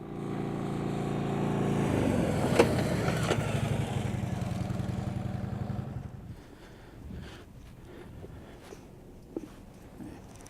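A police motorcycle rolling toward the cones at 25 mph drones steadily with wind noise, then the engine sound drops away as the rider stops using only the rear brake, leaving quieter rustling and a few small knocks.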